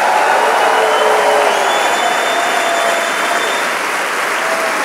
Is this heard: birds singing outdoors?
no